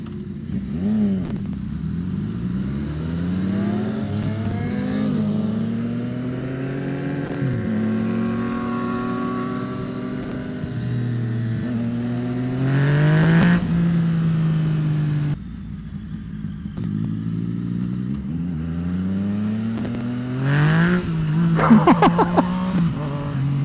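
A Yamaha FZ09 motorcycle cruises along with a rising and falling engine drone as it shifts through gears, wind noise over it and a few sharp exhaust pops and crackles near the end.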